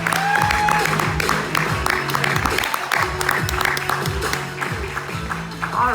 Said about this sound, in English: if you could give her a round of applause